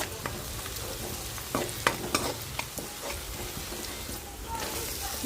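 Ginger-garlic tempering with turmeric frying in a pan, a steady close sizzle with several sharp pops and crackles scattered through it and a faint stirring scrape now and then.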